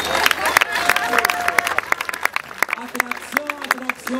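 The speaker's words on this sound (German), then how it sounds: "Applaus für gelbe Engel!" Scattered clapping and cheering from a crowd at an outdoor soapbox race in Weiden, sharp claps popping irregularly over a steady murmur of onlookers, with voices calling out near the front.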